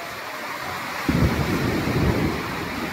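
A sudden crack of lightning-driven thunder breaks into a deep, rolling rumble over a constant wind-like roar of heavy rain in Chittorgarh.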